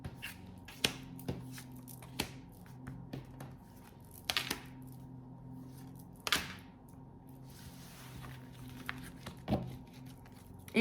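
Tarot cards are shuffled by hand before a reading, giving a series of quick, close riffling and slapping bursts spaced a second or two apart over a faint steady background hum.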